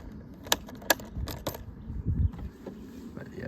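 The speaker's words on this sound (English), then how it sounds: "Keys right here." A set of ATV keys jangles close by in a few sharp metallic clinks and rattles, brief and bright over low background handling noise, with no talking.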